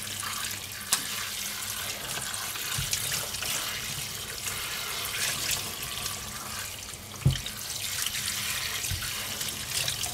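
Warm water runs steadily from a tap while grill parts are rinsed clean, a continuous close splashing hiss with a few brief knocks and clatters.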